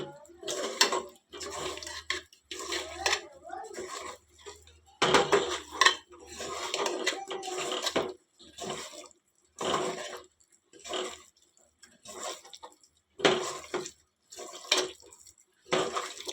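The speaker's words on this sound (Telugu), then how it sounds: "మనం ఈ ముక్కలు బాగా పట్టేట్టుగా కలుపుకోండి" Meat pieces coated in chili powder and turmeric powder stirred in a metal pot for biryani, giving repeated close scraping and clinking of a spoon against the pot in short bursts with pauses.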